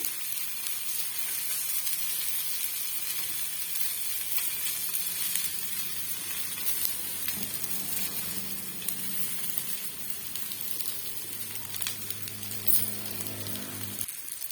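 Lemons roast on a hot dosa tava, giving a continuous moderate sizzle and crackle with small pops and occasional spatters, steady throughout without speech.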